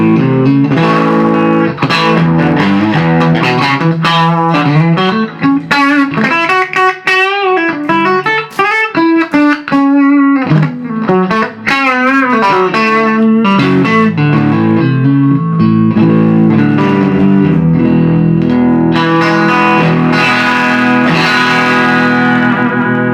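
Electric guitar playing chords and melodic lines through a warm, slightly reverberant 1966 Fender Princeton Reverb tube amplifier, loud and continuous with a touch of distortion.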